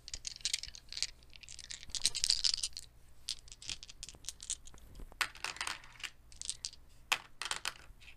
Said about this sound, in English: I'll be rolling these dice and playing with them